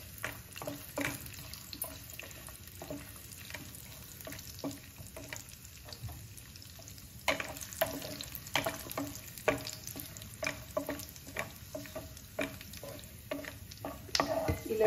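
Cashews and raisins frying in oil in a pan for carrot halwa, a steady close sizzle with repeated stirring scrapes and clinks running throughout.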